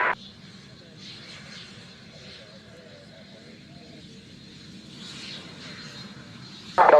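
A light propeller aircraft lands at the Waddington airshow, heard as a faint distant engine drone that swells slightly near the end, with faint voices underneath.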